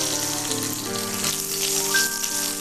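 Curry leaves hit hot oil while mustard seeds and three dried red chillies are tempered, a dense, steady crackling sizzle close by, with a high ringing tone running through it.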